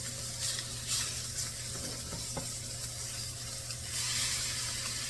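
Catfish fries in butter in a pan with a steady, close hiss and sizzle, and a few faint clicks of the pan come through.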